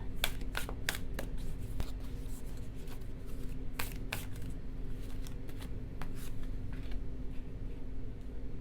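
Tarot cards are shuffled and drawn from the deck at close range: crisp, rapid flicks and snaps in uneven bursts over a low steady room hum, with no one talking.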